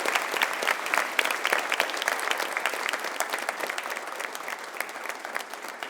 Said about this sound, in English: So a big round of applause for Hannah Montelongo going to Alvin.